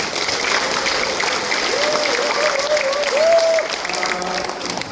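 An audience at a talk concert with the Gwangsan district head applauds together. Sustained, even clapping runs throughout at close range, with a brief voice rising faintly above it midway.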